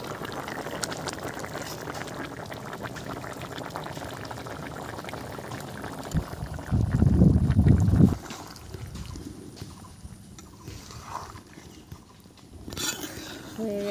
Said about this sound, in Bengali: ঝোল ফুটে গেছে, মাছগুলো এখন দিয়ে দেব আমি।